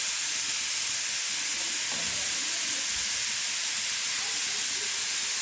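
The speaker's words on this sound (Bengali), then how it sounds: "পরপর সবজিগুলো সব আমি দিয়ে একসঙ্গে ভেজে নেব।" Mixed vegetables fry in a hot pan with salt for flattened-rice pulao, giving a constant loud hiss and sizzle that stays even for the whole stretch with no voices over it.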